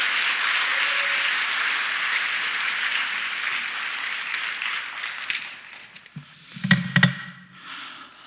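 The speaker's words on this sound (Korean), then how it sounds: "큰 박수 맞아주시기 바랍니다." A lecture-hall audience at a peace and unification talk concert in Seongnam applauds a speaker's introduction, steady clapping that fades after about six seconds into a few scattered claps and handling knocks.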